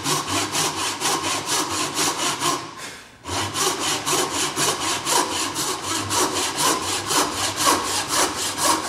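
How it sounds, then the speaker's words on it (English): A hand saw cutting through timber for a bridle joint, with fast, even rasping strokes that continue steadily, pause briefly, then resume at the same brisk rhythm, close and clear. "I'm only ever going to be sawing out the material that I can see."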